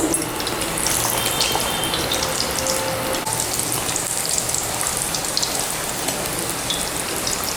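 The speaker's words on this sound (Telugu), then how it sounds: "మీడియం ఫ్లేమ్లో ఇవి గోల్డెన్ ఎల్లో వచ్చే వరకు వేయించుకోవాలి" Purnam burelu, sweet stuffed dumplings, fry in hot oil over a medium flame, giving a loud, continuous crackling sizzle with dense bursts of popping throughout, close and alone.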